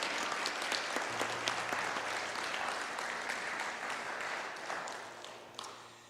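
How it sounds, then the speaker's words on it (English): Audience applause fills a church, a steady wash of many hands clapping at moderate distance for several seconds, with a low hum beneath it and no voices over it. "Let's give them another round of applause for helping us this morning."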